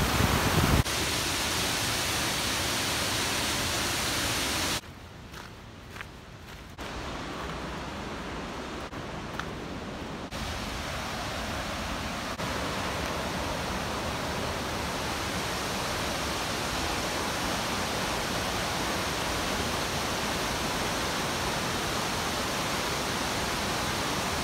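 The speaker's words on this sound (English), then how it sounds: "we've come out today to Whangarei Falls." The 26-metre Whangarei Falls in New Zealand roars as a steady, loud, broadband rush of falling water, continuous throughout with a brief softer dip near the start and no voices.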